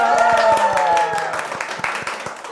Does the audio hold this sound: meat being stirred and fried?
no